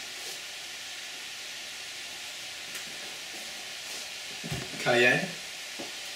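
Mushrooms and filet mignon fry in a pan with steak spices and garlic salt, giving a soft continuous sizzle, with scraping stirs near the end; a voice speaks briefly over it.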